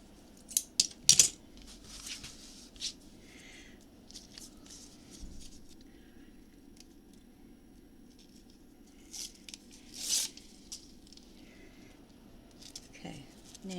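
Scissors trim a small piece of paper for a memory book: a few sharp close snips early, another later, faint and quiet amid soft handling rustle and low room noise.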